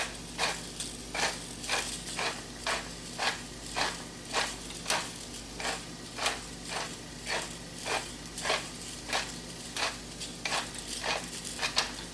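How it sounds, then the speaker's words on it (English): Fresh black pepper ground by hand in a pepper grinder: a steady run of rhythmic, close gritty crunching twists, roughly two per second, repeating evenly for about twelve seconds over a low background hum, no talking. "It really takes a lot more to grind 1/4 teaspoon of black pepper than you think if you're grinding it fresh"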